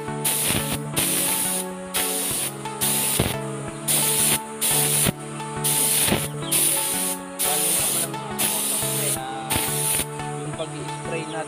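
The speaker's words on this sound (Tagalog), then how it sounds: "Pag-spray natin dito sa first stop coat nya" Spray gun laying a white top coat onto Aerox mag wheels, steady hissing passes of about a second each separated by short gaps, loud and close with no talk.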